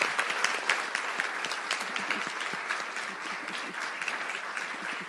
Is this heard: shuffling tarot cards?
no